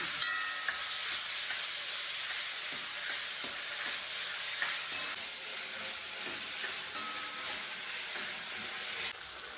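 A steady, loud sizzle of onions and tomatoes sautéing in a hot pan with occasional stirring scrapes and pops, continuous and close, no talking.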